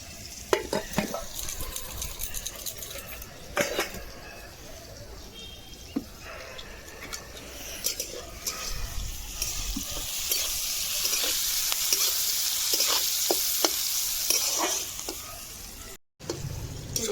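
Rice with peas, cashews and raisins stir-frying in a pan makes a loud, steady sizzle with repeated scraping stirs and clinks, building to a dense hiss in the second half before a brief cut-off near the end.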